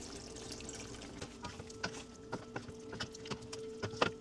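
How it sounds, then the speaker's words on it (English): Water is poured into a pot of chicken curry cooking with yogurt. A soft, steady trickle runs under a low kitchen hum, with faint clinks and knocks of a utensil at irregular intervals. "I'm just adding a little bit water."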